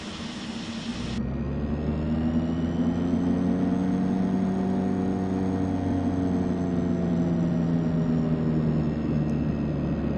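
Right engine of a DHC-6-300 Twin Otter turboprop starting up in the FSX flight simulator, a steady rising turbine whine and drone that swells and holds loud and continuous, with a high hiss above.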